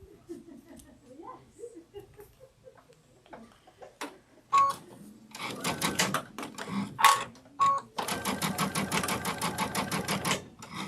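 A sewing machine stitching a sunflower wall hanging, with short stop-start bursts of rapid mechanical whirring and clicking near the mic, ending in a longer continuous run, amid quiet handling noises.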